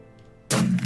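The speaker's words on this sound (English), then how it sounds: "you can hear explosions happening" A single explosion in a chaotic video game battle booms in suddenly after near silence, a dull heavy thud with a broad rumbling tail, loud and close.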